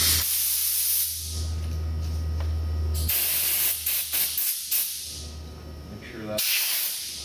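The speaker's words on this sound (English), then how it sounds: "then you clean this mess out with some compressed air" Compressed air blasting debris out of a machine tool after the gib is removed: loud, close hissing with one long sustained burst, a flurry of short stuttering blasts, then another strong burst near the end.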